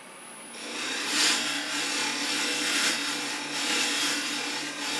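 A lathe turning a milk pear candlestick, the tool gently cutting the spinning timber in a continuous rough scraping whir that swells and eases in slow passes, close up with no talking.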